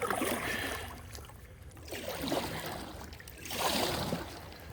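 Water swishes and surges in slow waves around a small boat, like paddle strokes pushing a canoe along, with no voices.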